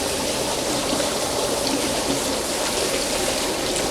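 Water rushing through a 13,000 litre per hour pump and filter, a steady close splashing flow with constant trickling hiss and no pauses.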